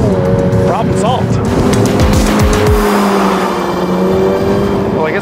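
A 2022 Toyota GR86 accelerates hard in a drag race against a Mazda Miata: a loud, close, steady engine drone with shifting harmonics, plus brief tire squeal sweeps.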